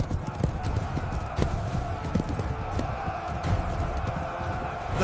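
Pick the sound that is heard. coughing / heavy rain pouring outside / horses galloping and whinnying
horses galloping and whinnying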